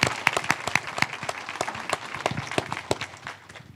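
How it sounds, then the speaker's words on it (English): An audience claps at a school funding donation event, a dense, steady round of applause with sharp individual claps that gradually thins and fades toward the end. "that simply deserves another round of applause"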